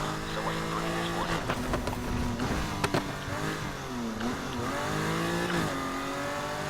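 BMW M2 driven in the Need for Speed Heat video game, engine revving up and down with shifting pitch and brief sharp transients, a player talking over it.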